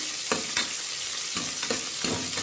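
Thinly sliced onions fry in hot oil for a Rayalaseema mutton curry, giving a steady, close sizzle broken by a few soft stirring scrapes.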